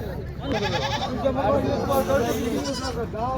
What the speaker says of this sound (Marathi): या बाजारामध्ये जास्त करून बकरी पण येतात